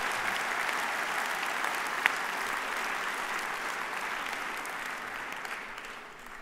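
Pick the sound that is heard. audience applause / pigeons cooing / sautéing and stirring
audience applause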